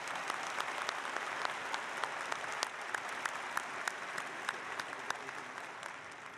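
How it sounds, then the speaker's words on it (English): Audience applause at a university undergraduate spring commencement ceremony, steady dense clapping from a large crowd that holds for several seconds with crisp individual claps standing out, no talking. "A round of applause for Roger Underwood."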